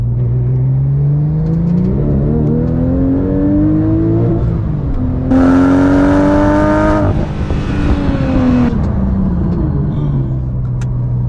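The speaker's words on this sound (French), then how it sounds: "pour en revoir une accélération, parce que c'est vrai que c'est de la folie" A Porsche sports car accelerates hard, its engine note climbing steeply through the gears, swelling loud and close before easing back to a lower drone.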